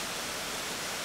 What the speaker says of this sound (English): it's the best waterfall I've seen in the winter in Ontario